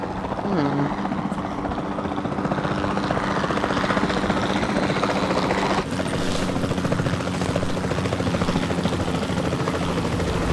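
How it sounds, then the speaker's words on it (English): The capture team helicopter in the video game Jurassic World Evolution 2 flies with a loud, steady rotor thump and engine drone, continuous and close, while a voice talks over it at times. "Then the sensible thing is to take a capture team helicopter."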